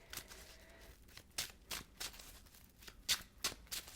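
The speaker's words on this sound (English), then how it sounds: "Two more shuffles, please, for Pisces." Tarot cards being shuffled by hand, a series of soft, quick riffling bursts in an irregular rhythm, close but faint, with no talking.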